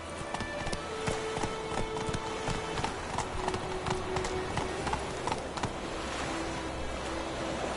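Roach, Geralt's horse in The Witcher 3, trots along in a steady clip-clop of hooves, close and rhythmic, over a soft outdoor ambience.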